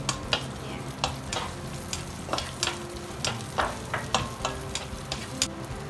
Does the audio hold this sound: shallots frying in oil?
yes